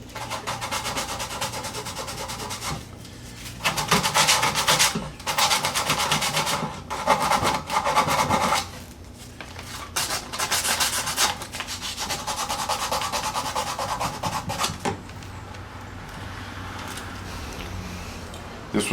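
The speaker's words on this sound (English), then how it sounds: "let's hit it with a little sandpaper here." Sandpaper rubbed over a wooden DVD cabinet in close, raspy back-and-forth strokes, grouped in bursts with short pauses between them.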